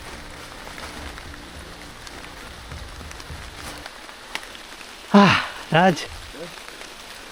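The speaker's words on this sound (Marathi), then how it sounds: "पावसाळा सुरुवात झाली, पुन्हा पाऊस झाला." Rain falls steadily in a forest at the start of the monsoon, a dense, even hiss over the first few seconds that continues faintly as voices speak near the end.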